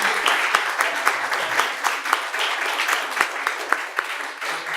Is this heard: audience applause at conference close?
yes